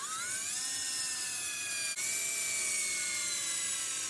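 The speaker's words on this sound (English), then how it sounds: "got the holes drilled out right there for the spacer" A drill bores holes in a carburetor spacer with a continuous, loud, high-pitched whine that dips only for an instant before running on steadily to the end.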